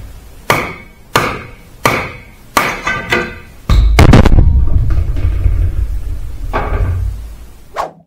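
Repeated sharp metal hammer strikes on a stuck wheel of a Toyota KE20, about a dozen evenly spaced blows, then a heavy clanking impact and a rumbling scrape, close and loud.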